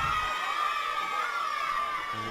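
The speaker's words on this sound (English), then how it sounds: "it sounds like there is a decent crowd at the game" Crowd at a men's football semi-final match, a steady distant wash of murmuring and cheering spectators, even and sustained throughout with no distinct calls standing out.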